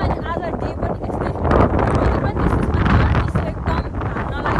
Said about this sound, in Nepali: यस्तो हावा लागेछ हावा